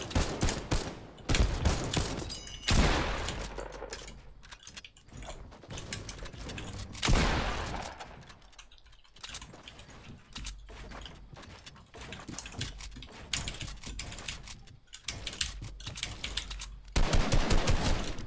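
Gunfire rings out in a video game shooting match, with repeated bursts and rapid volleys scattered through the clip, some loud and close and others lighter, amid clicking game sounds.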